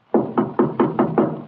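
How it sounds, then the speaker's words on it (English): Six quick, evenly spaced knocks on a door ring out loud and close, a sound effect from a 1946 old-time radio mystery drama, with no voices over them. "Someone at the door."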